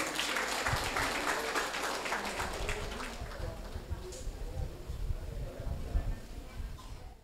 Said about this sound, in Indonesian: Tepuk tangan boleh Bapak Ibu semuanya yang hadir